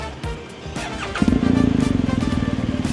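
A BMW R 1250 GS boxer twin with an Akrapovic full-system exhaust starts up, a short burst of cranking settling into a close, loud, throbbing idle with a steady rapid pulse.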